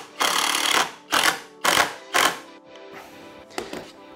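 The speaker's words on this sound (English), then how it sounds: "And then we're going to try and screw one of these screws in." A power driver sinks a screw into wood in several short bursts, each a loud whirring buzz of under a second, separated by brief pauses, with the last few bursts shorter and more broken.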